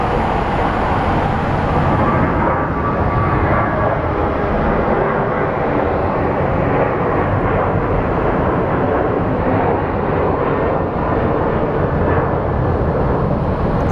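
An American Airlines airliner departs Phoenix Sky Harbor for Minneapolis, its engines a loud, steady, broadband roar that holds level and unbroken throughout.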